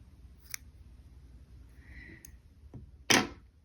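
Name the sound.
scissors cutting crochet yarn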